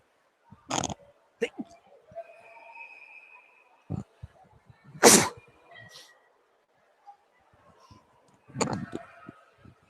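A single loud sneeze stands out amid scattered faint noises and distant voices in a large, echoing indoor swimming pool at a swim championship, just before a race start.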